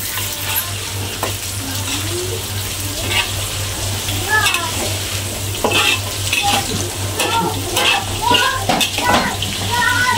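Green chilli and tomato fry in a hot pan for a sour fried pomfret dish, a steady loud sizzle with stirring scrapes running throughout, while people talk nearby over it.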